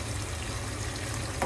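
Potatoes sizzle in a frying pan with small tengra fish, giving a steady, even hiss of hot oil that stays constant the whole time, with a slight clatter at the very end.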